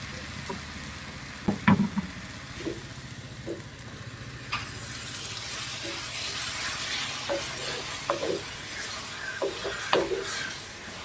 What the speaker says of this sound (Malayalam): ഇനി നമുക്ക് അരപ്പൊഴിക്കാം.